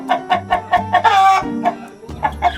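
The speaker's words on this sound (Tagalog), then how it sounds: "magkakasama na pala po yung malalaki at babaeng manok" Chickens on a farm, roosters and hens kept together, crowing and clucking close by in repeated bursts, with one long crow in the middle and steady low clucks underneath.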